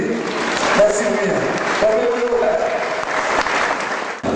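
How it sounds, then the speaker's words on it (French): Audience applause for a magistrate at a broadcast event, loud dense clapping mixed with crowd voices and talk, cutting off abruptly near the end. "Allons applaudir le magistrat accompagné de l'équipe."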